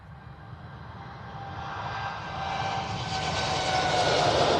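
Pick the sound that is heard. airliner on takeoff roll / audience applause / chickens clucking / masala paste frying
airliner on takeoff roll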